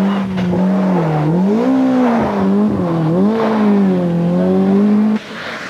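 A Toyota rally car at the 1987 Ulster Rally drives past loud and close, its engine note rising and falling steadily through gear changes before cutting off abruptly near the end.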